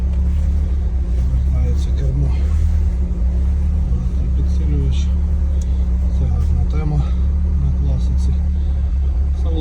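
A turbocharged VAZ 2104 car engine runs with a deep, steady low rumble and a few rises in revs, close by. Talk is heard faintly over the engine noise throughout.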